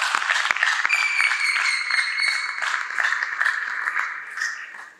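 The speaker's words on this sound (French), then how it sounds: "Est-ce qu'on peut l'applaudir," An audience applauds warmly and steadily at an event finale, dense clapping throughout with a few sharp claps standing out, fading slightly toward the end.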